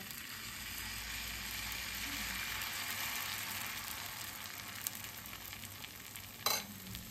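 Pancake batter fries in a pan with a steady, soft, continuous sizzle that holds at an even level, broken by one brief sharp click near the end.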